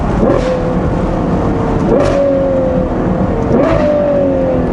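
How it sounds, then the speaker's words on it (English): A car engine held in the middle of its rev range on a national limit road, revving hard three times in repeated surges with a rising whine, loud and close, the sound bouncing off a nearby truck. "This is the middle of the rev range. This isn't even redlining the thing."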